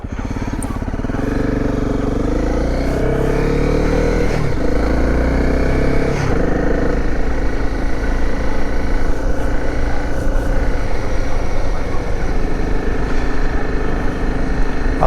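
Dirt bike engine on a night ride, droning loud and steady throughout with continuous revving and shifting pitch, the rider close to the motor.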